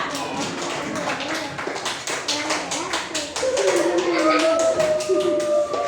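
A group of primary school children clapping in a classroom in a steady, fast patter, with young voices chattering and calling out underneath as the applause continues.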